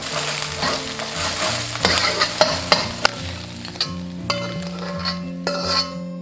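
An egg frying in a wok at home while preparing a Quanzhou New Year rice-noodle pot, giving a steady loud sizzle with stirring and occasional utensil clinks, no voices.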